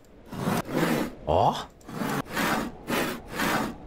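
A handsaw cuts through wood in the video game Farmer's Father: six loud, evenly spaced rasping strokes with short pauses between them, and a brief spoken interjection over the first strokes.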